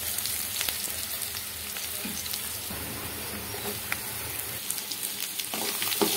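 Chopped radish and onion fry in a pan for a village-style radish curry, a steady close sizzle with soft crackles and occasional stirring scrapes.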